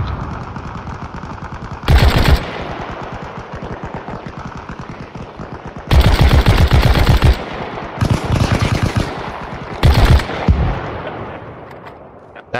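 Loud machine gun fire from Arma Reforger, several sustained bursts of rapid automatic shots over a continuous rattle of gunfire, with heavier bursts near the start, middle and end.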